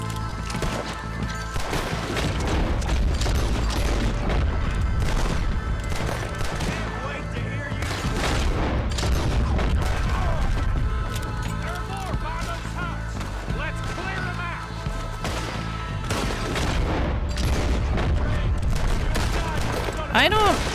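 Rapid, sustained gunfire from the Western video game Red Dead Redemption 2, with dense overlapping shots and impacts filling the scene while someone talks over the action.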